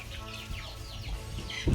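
Chickens being fed ragi and rice give soft chirping clucks in a quick series, fairly close but faint, with a louder bump at the end.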